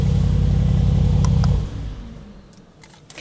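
Brabus G700 engine revving in a Dubai showroom, a loud deep roar held for about a second and a half before cutting off and settling into a quieter rumbling idle, with no voices.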